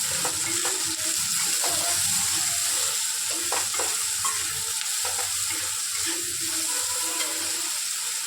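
Palak paneer cooks in a pan with a dense, continuous sizzle of frying, nearby and fairly loud. Repeated stirring clicks and scrapes of a utensil sound through it. Nobody speaks.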